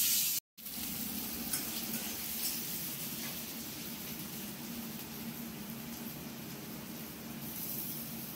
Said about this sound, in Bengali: দেওয়া হয়েছে সর্ষের তেল, আর এবার পেঁয়াজটা ছেড়ে দেওয়া হবে